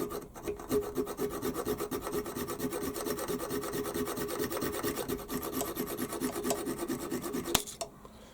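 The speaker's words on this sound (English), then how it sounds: "Junior hacksaw, shouldn't take more than a few strokes." A junior hacksaw cuts a small workpiece clamped in a vise, with plastic protecting the jaws, during model engine building. Steady, fast rasping strokes run continuously up close until a sharp final clack and a halt near the end.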